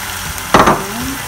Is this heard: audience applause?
no